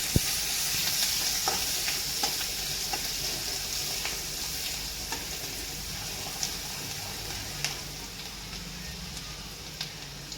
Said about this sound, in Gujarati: કાંદાને પણ આ રીતે આપણે સાતળી લઈશું